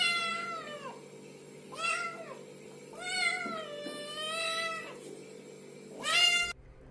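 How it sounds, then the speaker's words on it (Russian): A domestic cat meows several times in a row, clear and close, each call rising and falling in a drawn-out tone with short pauses between. "Кошка."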